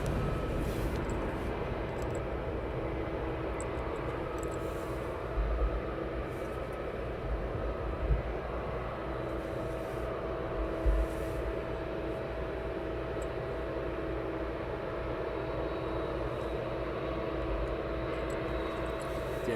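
DHL cargo jet at East Midlands Airport, a steady distant engine roar and hum holding throughout, with faint thumps and outdoor background noise.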